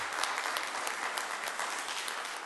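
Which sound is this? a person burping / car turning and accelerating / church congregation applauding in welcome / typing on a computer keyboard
church congregation applauding in welcome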